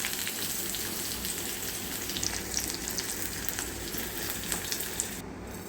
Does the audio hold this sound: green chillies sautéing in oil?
yes